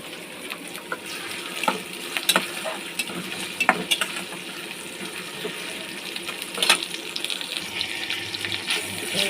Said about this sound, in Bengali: এই যে আমি পেঁয়াজটা একটু কিছুক্ষণ ভেজে নিলাম